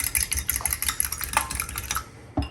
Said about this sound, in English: I'm just going to use a fork to quickly whisk them.